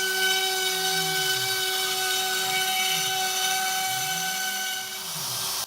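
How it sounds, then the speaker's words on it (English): Steady high-pitched whine of a CNC machine carving a guitar body's neck joint and belly carve, with strong tonal hum and a cutter pitch rising and falling in slow sweeps, loud and continuous at close range. "I also use my CNC machine to carve the easy access neck joint and the belly carve."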